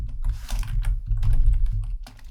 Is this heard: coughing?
no